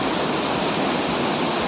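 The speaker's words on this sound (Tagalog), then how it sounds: "Rinig nyo na ba yung agos ng tubig?" Steady rushing river water at Wawa Dam on the Wawa River, a broad continuous roar of flowing current heard close and alone, with no voices.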